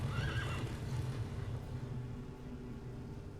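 A horse in The Witcher 3 lets out a short whinny near the start, over a low rumble of in-game background noise.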